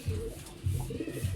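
Low, soft pigeon coos repeat three times in a slow rhythm, close by and fairly quiet, with no one speaking.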